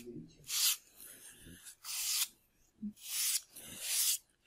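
Sandpaper rubs a small Boeing 787 display model part in four distinct strokes, each a bright scratchy rasp near the mic, separated by short quiet pauses and a faint tap.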